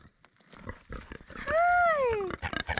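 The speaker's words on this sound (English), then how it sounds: "let me go and pick up the pigs and Molly and maybe Timmy" Pigs on an off-grid farm grunting and squealing close by, with one long, loud, rising-and-falling squeal in the middle among shorter snorts and rustling.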